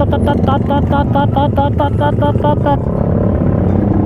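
Kawasaki Ninja H2 motorcycle engine revved hard at a wedding celebration, a loud close rapid stutter of limiter-bouncing bursts for nearly three seconds, then settling into a steady heavy roar with people talking over it.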